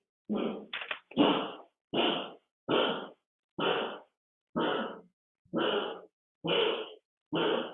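A dog coughing in a series of about nine or ten harsh, evenly spaced hacking bursts, each short and separated by silence, close and clear.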